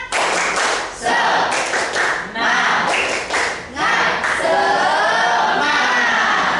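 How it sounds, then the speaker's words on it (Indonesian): Students at a high school do a rhythmic spirit clap, with bursts of patterned group clapping broken by short pauses, and voices call out between and over the claps. "Tepuk semangat."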